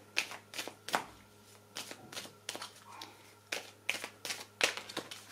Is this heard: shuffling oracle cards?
yes